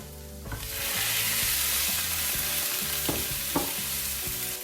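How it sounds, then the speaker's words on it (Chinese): Pan-fried tofu cubes with garlic hit hot oil in a wok, the sizzle swelling to a steady loud hiss while a spatula clanks and scrapes a couple of times, up close and without voices. "然后倒入煎好的豆腐块，"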